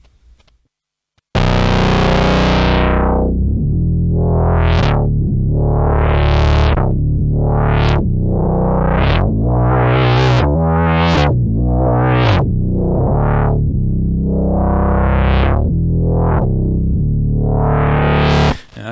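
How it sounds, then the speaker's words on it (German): Bass guitar through a distortion rig with a low-pass filter swept open and closed by an expression pedal, giving a loud sustained drone with a rhythmic wah-like rise and fall repeating about a dozen times, played alone. "Jetzt schalte ich den Low-Pass-Filter dazu. Der ist jetzt erstmal relativ offen noch und mit dem Expression-Pedal kann ich den dann steuern."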